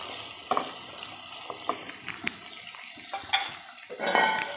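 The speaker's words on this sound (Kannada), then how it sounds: "ಚೆನ್ನಾಗಿ ಬೇಯೋ ತನಕ ಈ ಥರ ನಾವು ಮಿಕ್ಸ್ ಮಾಡ್ತಾ ಇರಬೇಕು." Ridge gourd chutney being stirred in a pan, with a spoon clinking and scraping the metal at irregular intervals over a soft sizzle, close by, with a fuller scrape near the end.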